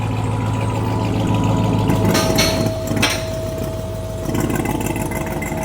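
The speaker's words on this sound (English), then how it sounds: "It's breathing through the wastegate." A RAM TRX engine with oil pumped into its exhaust idles steadily with a low, even drone, while brief airy hissing bursts from the wastegate rise over it partway through, near and alone.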